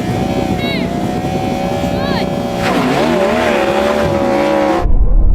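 A Ferrari SF90 in a drag race, its engine note rising in a loud, sweeping whine as it accelerates, with voices mixed in.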